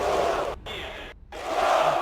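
An arena crowd at the Dota 2 Kiev Major grand final roars and cheers, a dense wash of voices broken by two brief sudden cutouts before swelling loudly again.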